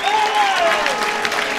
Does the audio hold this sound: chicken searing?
no